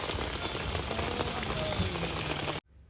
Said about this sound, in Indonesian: sekitar jam 3:30 itu Salak tuh udah mulai turun kabut dan udah mulai hujan